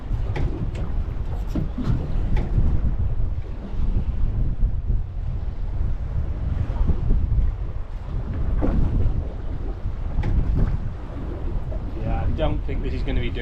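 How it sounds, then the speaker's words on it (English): Strong wind buffets the microphone while water splashes and slaps against a small fishing boat at sea, wind against tide, a rough, continuous roar. "There's just too much wind with tide."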